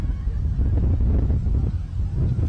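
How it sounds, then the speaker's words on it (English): Wind of about 30 mph gusts roars continuously against the microphone at an outdoor 10U youth game, a dense low rumble with no voices. "And you can hear it in the mic. This wind is blowing."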